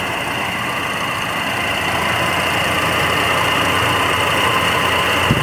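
A 1977 Chevrolet Monte Carlo's original 350 V8 with a 4-barrel carburetor idles in a steady, loud, low rumble close by, running smoothly and unbroken with no talk.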